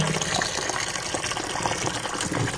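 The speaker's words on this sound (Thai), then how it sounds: "เดี๋ยวเราจะแช่น้ำนะคะแช่น้ำเกลือ" Water gushes steadily into a container to soak mangoes in salt water, a close, continuous splashing pour filling the short moment.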